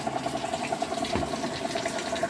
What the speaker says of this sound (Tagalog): Tingnan lang natin kung mag-refill na siya ng tubig.